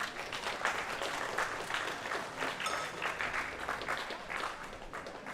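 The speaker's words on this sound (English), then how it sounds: "Give them a big round of applause." A crowd applauds the squat medalists at the 2021 World Classic Powerlifting Championships, men's junior 93 kg class: dense, steady clapping that holds at an even level for the whole stretch, with no speech over it.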